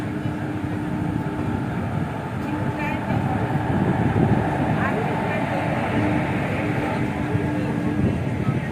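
The Shalimar-Puri Dhauli Express pulls out of a station, heard from inside a 2S second-class seating coach as a loud, steady rumble and clatter that fills the whole stretch.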